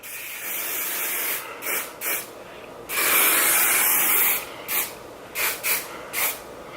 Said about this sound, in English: Dove Flexible Hold Hairspray.